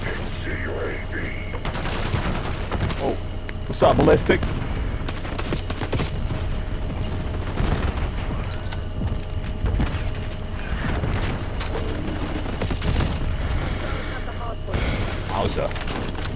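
Slow, spaced gunfire from a video game weapon, loud bursts recurring across the stretch under steady game noise, with someone talking over it.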